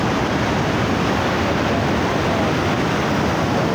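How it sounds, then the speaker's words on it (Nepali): A swollen, flooded river rushes past where high water has torn down bridges and carried off their middle posts, a dense, steady roar of water that fills the whole moment without a break. "पुलहरू सब भत्काइदियो बिचको पोस्टहरू पनि लैगिदियो खोला बढेर"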